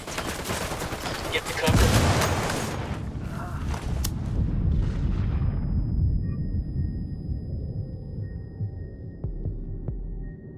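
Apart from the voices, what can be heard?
grenade explosion and gunfire in Ghost Recon Wildlands video game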